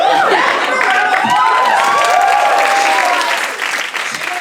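Loud audience applause fills a standup comedy show, dense steady clapping with scattered cheers and shouts over the crowd, thinning slightly toward the end.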